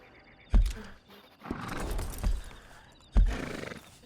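A horse neighs at a horse shop in the video game Red Dead Online, giving a few short snorting whinnies with soft hoof and ambient noise, quiet and near, with no speech.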